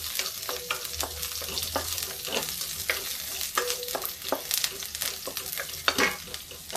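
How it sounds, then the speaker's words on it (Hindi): Mustard seeds, garlic and green chili fry in hot oil, a dense crackling sizzle with sharp pops and spits, punctuated by the scrape of stirring, close and steady throughout. "ये डाल देते लहसुन और हरा मिर्च। इसको भी थोड़ा भून देते हैं।"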